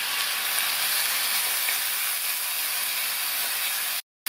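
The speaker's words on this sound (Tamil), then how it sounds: "அடுத்து 1/4 கப் அளவுக்கு பொடியாக கட் பண்ண தக்காளி, அது கூட கொஞ்சமாக உப்பு சேர்த்து வதக்கிக்கலாம்" Finely chopped tomatoes with a little salt sauté in a hot pan for an idli kurma side dish, a loud, even, continuous sizzle and hiss close up, cutting to a brief moment of silence near the end.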